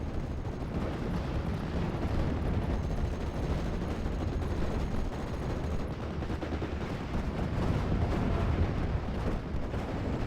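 Tank cannon and gunfire from a Panzer VI in a World War II strategy game, a dense, continuous barrage of low booms and crackling shots at steady loudness with no talking.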